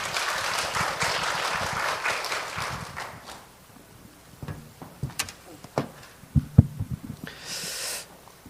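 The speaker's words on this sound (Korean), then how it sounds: "환영의 의미로 박수하겠습니다" An audience at a Korean church evangelism school claps in welcome for a visiting pastor, a dense burst of applause that fades after about three seconds, followed by scattered taps, shuffles and brief noises in a quieter room.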